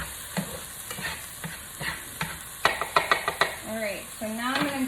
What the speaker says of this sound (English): I'm gonna get that all stirred in here.